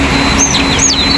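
Newly hatched chicks peeping in high, thin repeated chirps, loud and close, over a steady background hum.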